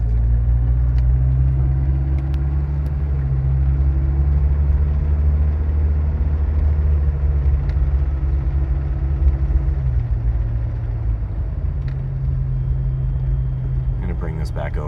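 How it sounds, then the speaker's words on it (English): A 1994 Saab 900 Turbo convertible driving with a cold engine: a steady, loud low engine drone with shifting pitch, continuous throughout, with no talk over it. "I'm going to drive a little bit longer, just so we can kind of experience a cold startup"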